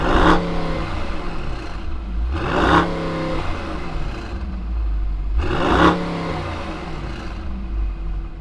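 A 2019 Mercedes-Benz AMG GT 63 S revs loudly up close, its engine climbing in three sharp bursts that fall back to a deep burbling idle between blips.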